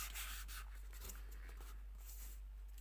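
A piece of paper is folded by hand, producing faint, soft rubbing and crinkling strokes in short bursts over a quiet low hum.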